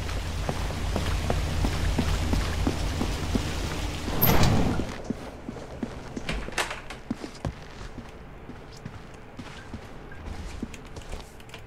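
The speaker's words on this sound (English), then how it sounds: "This rain." Steady rain falls through a stormy scene in the video game Hitman Absolution, with a swell of rumbling thunder partway through and scattered drips and taps over the constant downpour.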